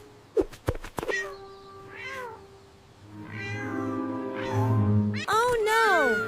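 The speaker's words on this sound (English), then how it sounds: "A poor little orange cat is stuck high up in the big oak tree and cannot get down." An animated cartoon scene has a small orange cat stuck high in a big oak tree, mewing repeatedly in high, wavering cries that grow longer and more plaintive, with some cartoon voices and background sound mixed in.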